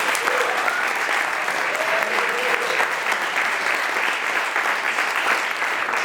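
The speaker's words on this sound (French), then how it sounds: "un tonnerre d'applaudissements pour Anthony." Dense, steady audience applause at a coding bootcamp demo day event, sustained at an even level for the whole stretch with no voices on top.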